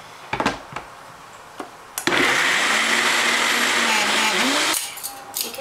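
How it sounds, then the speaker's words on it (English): A kitchen blender whirs loudly and steadily for about three seconds as it purées drained canned black beans for a flourless chocolate cake batter, with clicks and knocks before and after. "we are just going to blender that up"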